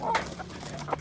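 A gallo pava, a fighting rooster with seven fights and both eyes sound, with a hen beside it, gives short clucking calls in a quick cluster at close range, without talk.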